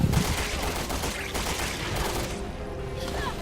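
Gunfire from a pump shotgun in the video game Resident Evil Revelations 2 sounds as dense, loud blasts over a busy game soundtrack, with no clear talking.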